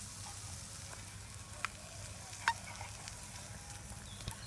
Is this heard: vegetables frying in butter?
yes